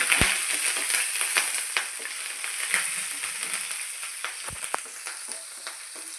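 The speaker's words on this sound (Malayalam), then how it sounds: "ഇനി നമുക്ക് ജീരകം, കുരുമുളകും, ഇഞ്ചി, കറിവേപ്പില, പച്ചമുളക് എല്ലാം കൂടെ വറുത്തെടുക്കാം." Cumin, pepper, ginger, curry leaves and green chilli frying in hot oil make a soft, continuous sizzle scattered with sharp crackling pops, heard alone.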